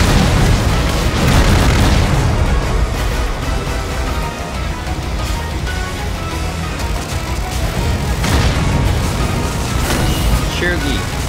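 Heavy in-game bomb blasts from the shoot-'em-up Raiden V: Director's Cut, a dense, loud stream of booming explosions with bursts at the start and again near the end, layered over continuous game noise.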